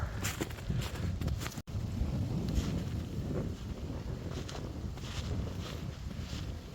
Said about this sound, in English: it is so windy down by the water